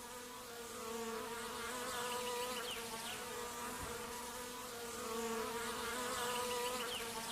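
Bees buzzing in the woods, a steady close drone of wings that swells and fades slightly as insects move around, with no voices.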